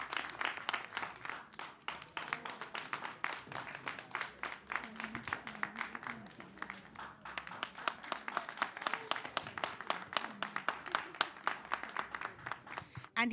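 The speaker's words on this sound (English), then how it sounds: "Let's give him a big round of applause." An audience at a spelling competition final applauds the winner with dense, sustained clapping that continues steadily, heard from within the hall at moderate level.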